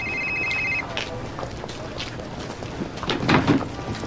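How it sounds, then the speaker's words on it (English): A telephone rings indoors in a drama scene, a steady electronic ring in a short burst near the start, followed by faint rustling and a soft knock. "That's the phone."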